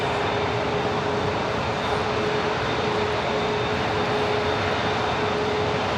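An Airbus A380 jet sits at LAX with its engines giving a steady, even roar and a faint high whine, continuous throughout without talk.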